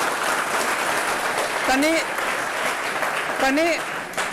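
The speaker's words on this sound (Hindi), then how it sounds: "कनिका के लिए एक बार जोरदार तालियां बजाओ" A group applauds for Kanika at a gathering, steady dense clapping filling the room throughout, with a voice calling out briefly over it twice.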